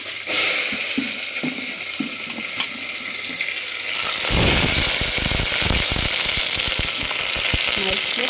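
Fennel seeds, curry leaves, crushed garlic and small onions hit hot oil in a pan for kuzhambu, bursting into a loud, steady sizzle that swells and thickens halfway through, with crackling pops and stirring close by.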